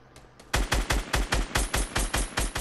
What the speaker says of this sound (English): I'm going to shoot him out of the sky.